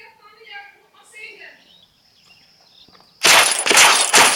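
Rapid automatic gunfire from the video game Blitz Brigade, fired with unlimited ammo: after a quiet stretch of faint chirps, loud, dense bursts of shots break in and keep pounding to the end.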